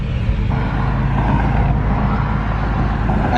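Interior drone of a BMW E92 M3 cruising, a steady low engine rumble and road noise filling the cabin at an even level, with no talking.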